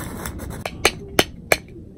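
A weed grinder is tapped against a hard surface, giving about four light, sharp clinks spaced evenly a third of a second apart over a soft background hiss.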